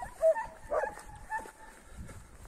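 Kangal shepherd dogs outdoors give a few faint, short yelps and whimpers, spaced out and somewhat distant over a quiet background.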